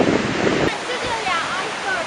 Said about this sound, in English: the sea's just a little bit on the rough side today